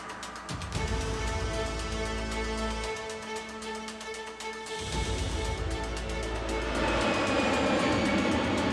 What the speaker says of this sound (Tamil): நாங்க டேக் ஆஃப் பண்ணிட்டோம். என்ஜின்ஸும் மற்ற சிஸ்டமும் பெர்ஃபெக்ட்டா ஒர்க் பண்ணிக்கிட்டு இருக்கு.